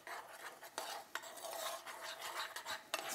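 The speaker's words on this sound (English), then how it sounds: "Give that another good stir." A spoon stirs a blue cheese sauce in a pan with a soft, continuous scraping swish broken by a few sharper clicks against the metal, heard alone and up close.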